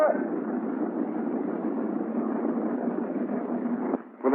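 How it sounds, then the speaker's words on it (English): Radial piston engine on the left side of a C-47 aircraft starting and running, a steady loud rumbling drone that holds for about four seconds before a brief dip and return. "I'm going to start the left engine."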